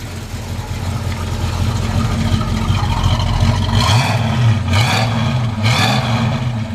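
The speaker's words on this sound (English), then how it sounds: "You can listen to the exhaust." A 1965 Dodge Dart GT engine idles with a deep, steady exhaust rumble heard up close, then is revved in three short blips near the end before settling back.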